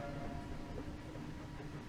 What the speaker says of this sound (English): Oh, we're on train.